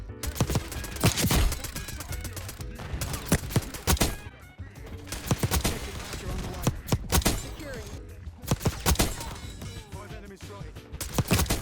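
Rapid-fire gunfire in a multiplayer shooter video game, dense bursts of sharp cracking shots packed tightly together and continuing throughout, loud and close, with a voice talking intermittently beneath.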